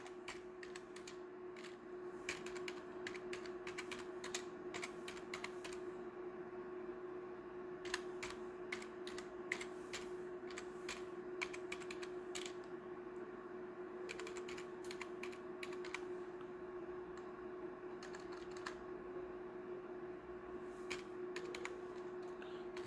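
Computer keyboard keys clatter in quick irregular bursts as a command is typed into a Linux terminal while fixing a network connection, faint and close over a steady low hum.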